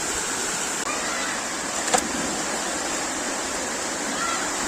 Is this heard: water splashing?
yes